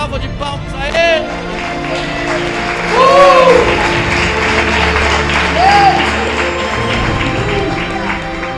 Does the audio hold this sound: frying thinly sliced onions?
no